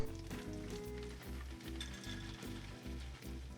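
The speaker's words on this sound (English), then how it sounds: "We're going to let those pistachios get nice and toasty in that butter" Pistachios toasting in melted unsalted butter in a skillet give a steady close sizzle, though a loud repeating low music beat sits over much of it.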